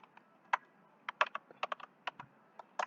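Typing on a computer keyboard while writing Python code: quick, irregular clusters of crisp keystrokes, close and quiet, with no voices.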